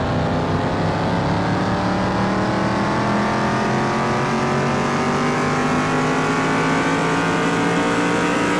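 A Dodge car engine revs hard on a dyno during a horsepower run, its loud, continuous roar climbing steadily in pitch with no voices over it.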